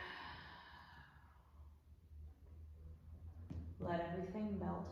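A deep, breathy exhale during a calm yoga relaxation, audible near the microphone with a soft hum beneath, followed by a louder voiced sigh-like release toward the end.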